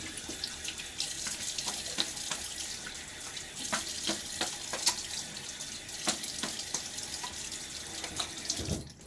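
Water running from a bathroom tap into a sink while a face is rinsed after a shave with a Gillette Aristocrat razor, a steady close splashing stream broken by louder splashes from hands in the water.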